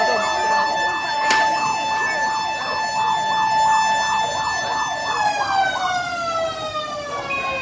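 Fire truck siren wailing in a steady, rising-and-falling pattern as it arrives at a house fire in a residential area, loud and close, with a sharp knock early on and faint crowd noise underneath.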